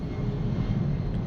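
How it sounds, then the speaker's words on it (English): An airplane near an airport roars steadily overhead, a loud continuous engine rumble that fills the short stretch with no other sounds. "That is a plane."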